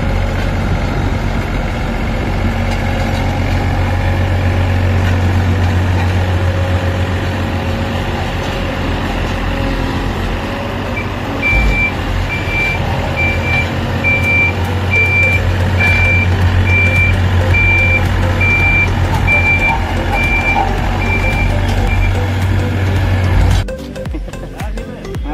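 A small road roller working on a road bed idles and rumbles steadily up close, with a repeating electronic reversing beep through the middle stretch and a sudden shift in engine noise near the end.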